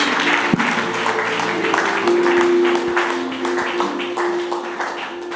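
Audience members at a pastors and leadership conference applaud in a steady, dense wash of clapping with a few sharper individual claps, while a sustained organ-like tone and faint voices carry underneath.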